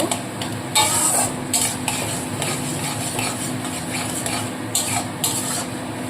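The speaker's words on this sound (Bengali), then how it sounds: "হালকাভাবে ভেজে নেব" Onion and other ingredients for chicken ghugni fry lightly in a pan with a low, steady sizzle, as a spoon stirs and scrapes against the metal in bursts. The sound is close, with no talking.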